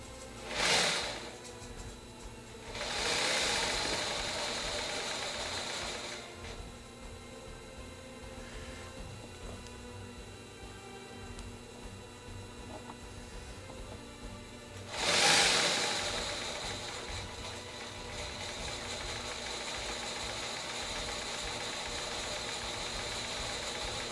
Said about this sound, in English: It should spin our bobbin and wind up some thread.